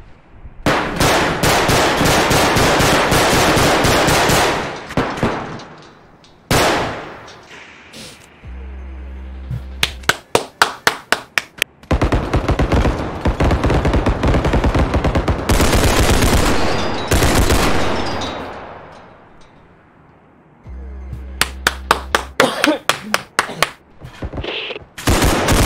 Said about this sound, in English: You can hear the bullets hit the metal.